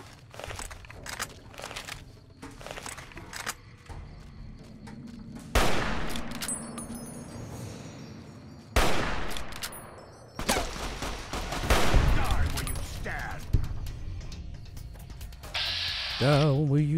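Repeated gunfire bursts and volleys during an ambush in the Fallout: New Vegas video game, loud sharp shots clustered through the clip with brief quieter gaps and game ambience between them.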